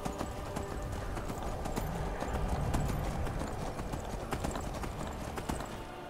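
Rhythmic clip-clop of hooves from a horse galloping in the Skyrim video game, steady and close over a dense, noisy game soundscape with no talk.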